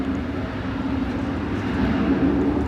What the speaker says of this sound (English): Frontier Flight 9831 is off with Fallon the Falcon on its tail